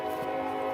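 A passing train sounds its horn in one steady, sustained blast over a continuous rumble, loud and unbroken for the whole moment with no talking.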